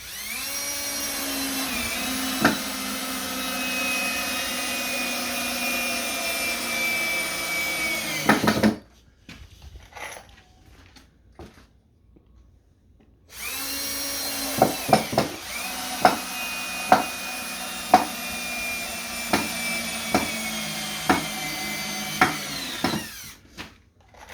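A cordless power drill whirs steadily for several seconds, stops, then restarts with repeated short bursts and revving pulses, close and loud, in cold temperatures.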